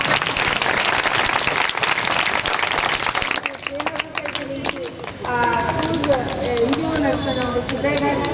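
Applause from a crowd at a disabled sports event on a collector's ground, dense clapping at first that thins out as a voice speaks over the later part.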